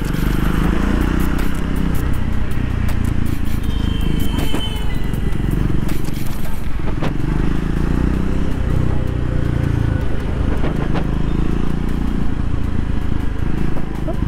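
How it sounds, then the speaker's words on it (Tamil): A Triumph 400X motorcycle cruises in third gear at about 30 km/h with a steady, low, rumbling engine drone under rushing wind noise, as heard by the rider on board throughout. "So I'm on third gear, 30 kilometre speed. Engine is so relax"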